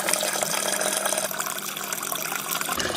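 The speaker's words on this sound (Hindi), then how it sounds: "फिर बाल्टी को पानी से भर देंगे" Water gushes steadily from a tap into a bucket being filled to mix a feed for adenium plants, a continuous broadband splashing and rushing that stays loud and even from start to finish with no talk.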